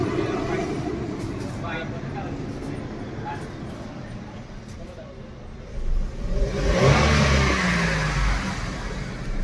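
A Maruti Wagon R engine running on petrol, with a pickup problem, idles with a low rumble, then revs up loudly partway through and stays raised; a dog barks and whimpers faintly in the background.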